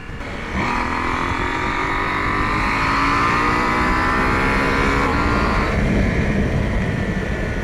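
A KTM 790 Adventure motorcycle on knobby tires is ridden hard, the engine droning loud and close as its pitch climbs steadily under acceleration, with a shift partway through and wind rushing over everything.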